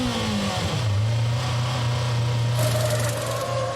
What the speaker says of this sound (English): Such a rattly old noise from the engines when they're in tick-over mode